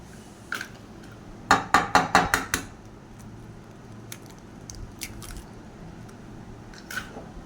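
Fish pieces are hand-mixed with garlic paste, ginger paste, green chili, eggs and sauce for chili fish, giving a quick cluster of wet squelching squishes followed by a few scattered softer ones.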